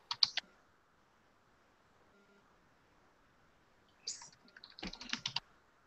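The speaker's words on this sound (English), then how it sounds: "I'm typing what I'm saying." Short bursts of keys being typed on a computer keyboard, a quick cluster near the start and a denser run toward the end, close and fairly quiet with near silence between.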